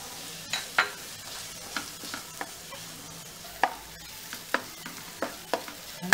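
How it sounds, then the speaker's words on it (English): Chopped onions fry for a kheema samosa filling in a soft, steady sizzle, broken by repeated sharp scrapes and taps of a spoon stirring against the pan, close and regular. "Let this fry for some time. Add the onions, chopped onions."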